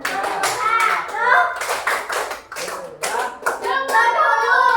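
Fourth-grade children play the 'tepuk 1, 2, 3' clapping game in a classroom, sharp clusters of group claps falling in short counted bursts between a voice and children's chanting.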